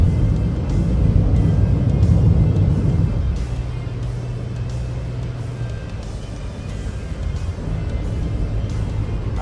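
A car cruises on a highway at about 80 to 100 km/h, giving a steady close cabin rumble of road and engine noise that turns a little lighter and smoother partway through, with no talking.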